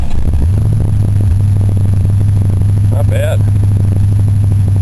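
A Ford Crown Victoria engine cranks and catches, then settles into a steady, loud idle with a low drone throughout, and a person speaks briefly over it.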